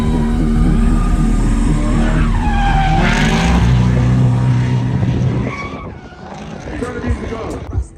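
A drift car in Formula Drift trim on a ride-along, its engine roaring loud and close with a rising, sliding tire squeal, easing off into quieter rumble and scattered noises near the end.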